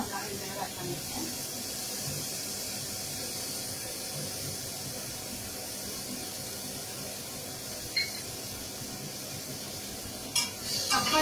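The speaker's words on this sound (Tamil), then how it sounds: "தக்காளி கொஞ்சம் வதங்கட்டும்." Tomatoes and onions sauté in a pan for a Chennai-style brinji, giving a steady, even sizzling hiss throughout, with a few soft clinks of utensils near the end.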